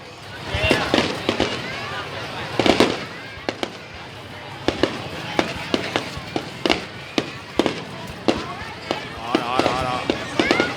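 New Year fireworks display for Tet 2019 at a national tourist area, with repeated sharp pops and bangs at irregular intervals, moderately near, while people chat throughout.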